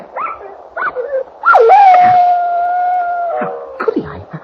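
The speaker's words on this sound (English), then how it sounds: "Martin, the dog." A dog yips, whines and lets out a long wavering howl-like whimper in a 1947 radio drama, loud and close, with short broken cries before and after the sustained tone.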